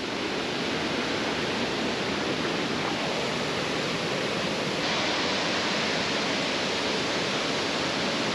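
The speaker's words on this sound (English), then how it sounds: "we are walking right next to the Twin Falls." Twin Falls in a Tennessee state park pours down a mountainside of many waterfalls, heard nearby as a loud, continuous broadband rush of falling water with no break.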